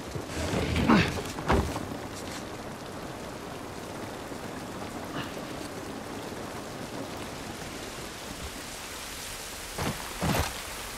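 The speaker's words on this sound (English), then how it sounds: "This rain ain't gonna do us any good." Steady rain falls across an outdoor scene in The Last of Us Part I, a constant hiss that holds for the whole stretch, with a few brief louder bursts near the start and end.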